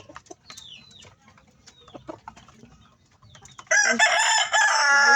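Bantam and Kelso chickens, a hen and a rooster, cluck softly at first, then a loud close rooster crow fills the end of the clip.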